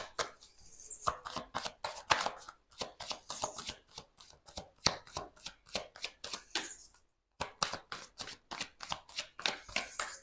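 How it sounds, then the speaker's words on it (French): Tarot cards are shuffled and drawn by hand, giving a quiet, close series of rapid riffling snaps and flicks in uneven bursts, with one short pause partway through. "Je vais rajouter une carte."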